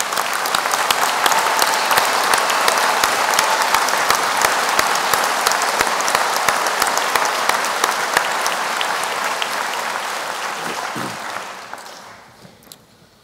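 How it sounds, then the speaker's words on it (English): A spring commencement audience gives a long, loud round of applause for standing award recipients at an architecture, planning and design ceremony, dense clapping from a large hall that gradually thins and dies out. "final round of applause."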